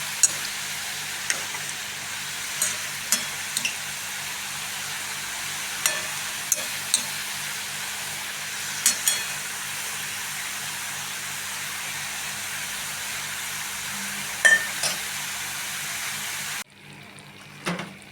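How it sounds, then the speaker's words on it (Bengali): Kucho nimki, small flour snacks, frying in hot oil with a steady close sizzle and hiss throughout, broken by occasional soft taps and stirs, before the sizzling drops away abruptly near the end. "দেখো নিমকিগুলো সুন্দর ভাজা হয়ে গেছে"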